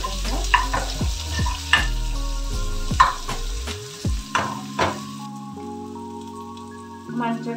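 Spices for a chicken gravy sizzle and fry in a hot pan with mustard seeds, with steady crackling and several stirring scrapes and clanks of a utensil throughout, fairly close.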